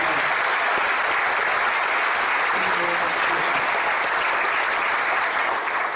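Steady, loud applause from a church congregation at a service, a dense wash of clapping lasting the whole stretch with no pauses, filling the room evenly.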